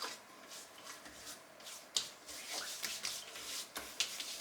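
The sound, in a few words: rubbing skin cream into hands, head and face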